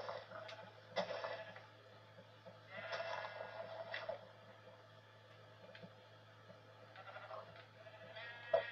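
Sheep in Minecraft bleating in several short, faint calls spread across a quiet stretch, with no one talking.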